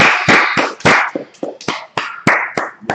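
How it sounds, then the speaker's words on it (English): A small audience breaks into scattered hand claps: about a dozen sharp, close, uneven claps spread over a few seconds, with no voices. "All right, let's clap it up."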